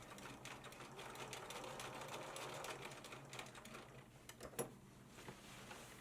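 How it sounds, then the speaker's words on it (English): A sewing machine stitching diagonally across a beginner's simple tote bag, a fast, steady mechanical whir and chatter heard close and fairly quiet, ending with a few separate clicks and a knock as the stitching stops. "I'm going to pivot, but I'm going to sew diagonally for the X."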